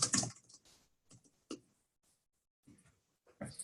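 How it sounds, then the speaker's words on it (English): Quiet, scattered keystrokes of SQL typed on a computer keyboard, irregular taps and clicks with short pauses between them, heard close up. "So if I type something in here,"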